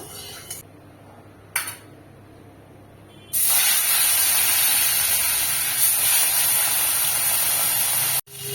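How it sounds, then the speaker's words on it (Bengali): Fish sizzles loudly and steadily in hot mustard oil in a kadai, a sharp frying hiss that bursts on after a few quiet seconds and holds to the end without talk. "তেল গরম হয়ে গেছে, আমি এবার মাছ দিয়ে দেবো।"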